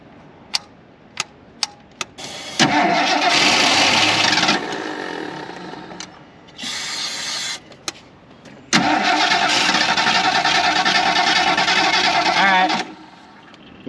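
A 1977 Mercury Grand Marquis, left parked, cranks repeatedly without catching, with a few sharp clicks, then two long, loud rhythmic starter bursts and a shorter one between them, close and with no speech.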